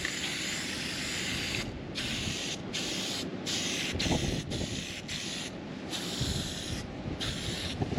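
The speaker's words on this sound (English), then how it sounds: "So we're gonna spray paint this spot" An aerosol spray paint can hisses in several short bursts, marking a spot on a planter, with brief pauses between sprays, close and fairly loud over faint background rumble.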